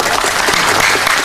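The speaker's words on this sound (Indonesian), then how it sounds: "Tepuk tangan." Audience applause at a Javanese-Indonesian religious talk and gathering, a dense, steady wash of many hands clapping throughout, loud and continuous with no voices on top.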